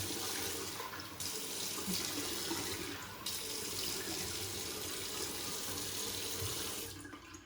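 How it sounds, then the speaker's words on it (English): Water runs steadily from a bathroom sink tap during a face rinse, a continuous close splashing hiss with a couple of brief shifts in flow before it cuts off near the end. "I'm gonna wash off my face and we'll get lathering again."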